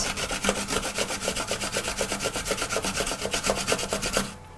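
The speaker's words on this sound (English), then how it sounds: "And I'll take my onion that I had prepped before and just grate it." Onion rubbed against a grater in quick, even back-and-forth strokes, a close rasping scrape repeating about eight times per second before stopping abruptly near the end.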